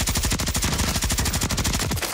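Automatic gunfire in the video game Warzone 3: a rapid, evenly spaced burst of shots rattling steadily throughout, loud and close with no pauses.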